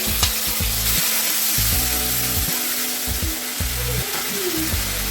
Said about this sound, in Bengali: এখন আমি এখানে দিয়ে দেবো আদা বাটা আর জিরে বাটা, দিয়ে আমি একটু ভেজে নেব